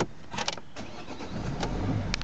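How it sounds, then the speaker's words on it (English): A Volvo S40 car engine cranks with a few clicks and then catches, settling into a steady low idle heard close up from inside the car. "vehicle starts nicely,"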